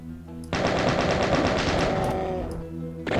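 A chain gun fires a rapid, sustained burst in the game Doom Sigil, loud rhythmic shots rattling for about two seconds before stopping, with another burst starting at the very end.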